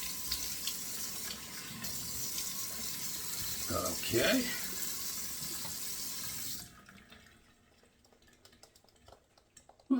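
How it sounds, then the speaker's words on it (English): Cold tap water runs steadily into a bathroom sink for splashing the face, a broad rushing stream that cuts off abruptly partway through, leaving quiet room tone with a brief spoken word. "it's time to put on 2 splashes of cold water"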